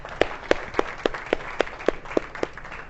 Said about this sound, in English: We should give them a round of applause for hosting this event.